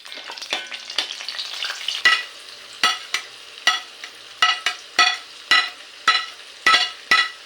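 Dried red chillies fry in sunflower oil in a kadai with a close, bright crackle, while a spoon scrapes through them in evenly spaced strokes about every half second.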